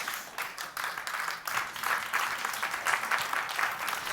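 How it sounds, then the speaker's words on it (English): Applause rises from a conference audience during a talk, a dense, steady wash of many hands clapping together, heard from a little distance at moderate level, with no talk over it. "You're clapping because it's true."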